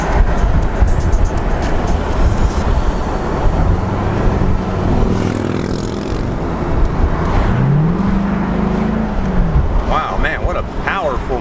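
A 2001 Chevrolet Corvette Convertible engine roars steadily and rises as it accelerates on the road, loud and close, with someone talking over it throughout.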